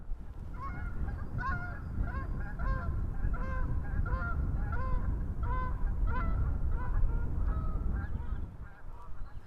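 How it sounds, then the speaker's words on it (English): A flock of geese flies over at dawn, honking in a steady stream of overlapping calls above a low rumble of wind and outdoor ambience, moderately distant and fading toward the end. "And here come the geese."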